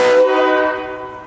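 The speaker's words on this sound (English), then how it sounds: "that gives you the train horns" Loud train-style air horn on a vehicle, switched to its high setting: a single strong harmonic blast that sounds for about a quarter second and then decays with a ringing tail, with no other sound around it.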